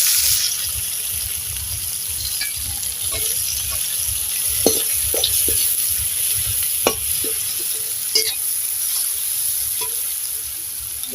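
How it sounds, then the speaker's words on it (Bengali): Chopped onions frying in oil with cardamom, cloves, cinnamon and cumin for chicken biryani: a continuous loud sizzle broken by occasional stirring clinks and scrapes, with no speech. "মশলাটা ভাজা হয়ে গেছে, এবার আমি কুচোনা পেঁয়াজগুলো দিয়ে দেব"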